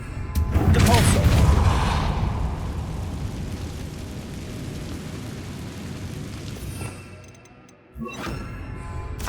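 Confringo and Depulso spell blasts in Hogwarts Legacy: a loud booming explosion rolls into a long rumbling roar that slowly fades. A second sharp burst comes near the end.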